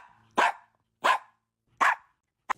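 A dog barks four times in short, sharp bursts spaced roughly evenly apart, loud and close, the last bark clipped short, with no talking over it.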